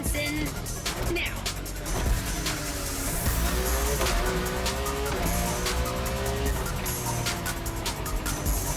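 A car drifting through a sequence of turns in The Crew Motorfest racing game, its engine revving and rising and falling steadily with faint tire squeal throughout, loud and continuous.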